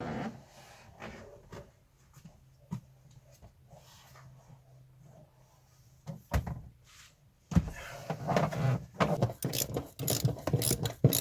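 A ratchet bolts a car seat back into a Mini, with bursts of quick clicking, knocks and rattles near the microphone between quieter pauses, growing busier toward the end.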